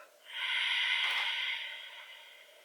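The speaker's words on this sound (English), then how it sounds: "You should be able to hear that exhale" Slow ujjayi exhale pushed through a slightly constricted throat, a steady, close, breathy hiss that swells for about a second and then tapers off with no voice.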